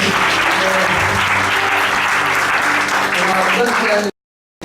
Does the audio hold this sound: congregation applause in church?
yes